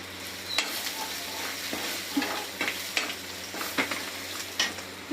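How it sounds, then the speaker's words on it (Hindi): Chopped green onions sizzle as they are tempered in hot oil in a pan, a constant crackling fry broken by repeated scraping stirs of a spoon against the pan at an uneven rhythm. "यहाँ पे मम्मी ने हरी प्याज को लगा दिया तड़का"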